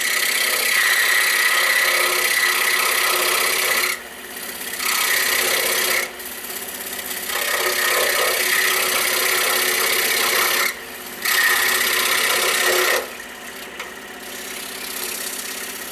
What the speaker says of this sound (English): But now we're going to go ahead and cut the other kerf.